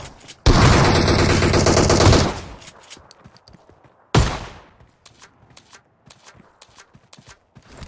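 Gunfire in the mobile battle royale game PUBG Mobile: a loud, sustained burst of rapid automatic fire lasting about two seconds, then a single sharp blast with a fading tail, amid scattered footstep-like clicks and rustles.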